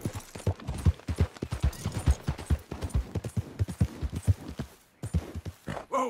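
Horse galloping in the video game Red Dead Redemption 2, steady rhythmic hoofbeats close and clear throughout, with a brief break in the rhythm near the end.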